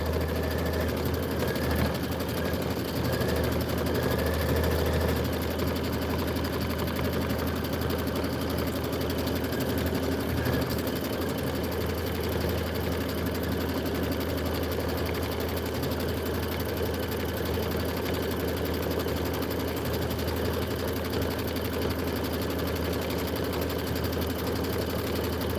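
A sewing machine stitches quilt filler blocks in one long continuous run, a steady mechanical hum and whir at moderate level, with no talking.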